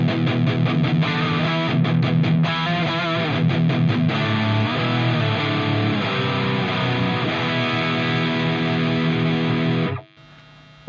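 An electric guitar played through impulse responses on a Line 6 Helix rings out loud and distorted with sustained chords and riffs, then cuts off abruptly near the end.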